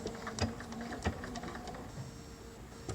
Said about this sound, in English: And now I'm going to start stitching.